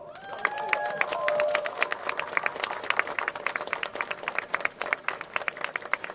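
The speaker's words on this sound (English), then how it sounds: "Hands together, please. Round of applause." Crowd at a justice rally for Chris Kaba claps, dense rapid clapping spread across the whole stretch with a raised voice or two near the start.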